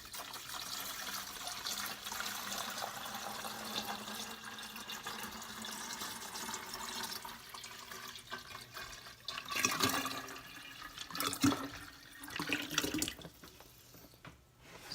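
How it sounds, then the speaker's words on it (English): Distilled water being dumped into a container for a brass case wash, starting as a quiet steady trickle and turning into louder splashing gurgles toward the end, with no speech. "We're gonna dump this water in here."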